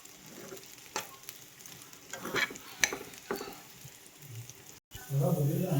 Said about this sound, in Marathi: ही बघा, अशा प्रकारे चांगली परतून घ्यायची.